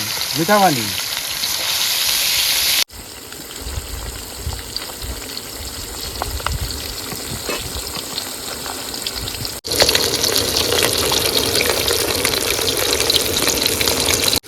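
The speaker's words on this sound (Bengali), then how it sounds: "বন্ধুরা মাছ ভেজা হয়ে গেছে আবার তুলে নেবো" Fish frying in hot oil in a pan while cooking outdoors in the Sundarbans, a steady loud sizzle running throughout with abrupt level shifts and brief bubbling and clatter.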